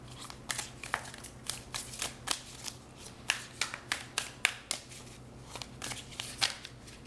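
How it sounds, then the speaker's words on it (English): An oracle card deck is shuffled by hand in quick, crisp riffling bursts, roughly twenty short papery snaps spread unevenly over several seconds, close and fairly quiet with no talking. "So I'm going to shuffle another oracle deck over here"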